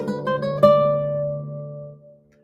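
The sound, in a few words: guitar chord with open D still ringing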